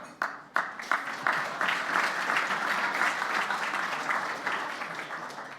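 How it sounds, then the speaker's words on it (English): An audience bursts into applause at a Canadian Club of Toronto luncheon, starting with a few scattered claps and swelling into steady, sustained clapping from a crowd indoors. "Normally I don't get applause at that line"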